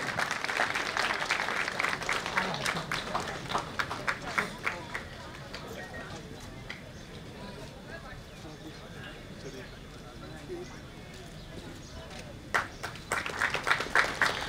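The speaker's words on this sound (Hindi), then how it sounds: "इनका जोरदार तालियों से स्वागत करें।" Audience applause at a university Independence Day celebration in Amarkantak, India, a crowd clapping to welcome a guest, with a loud burst at the start, a quieter middle stretch and renewed clapping near the end.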